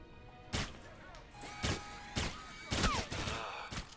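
Tranquilizer pistol fire in the stealth game Splinter Cell: about five muffled, suppressed shots in an uneven series, each a short soft thump with faint ringing tails between them.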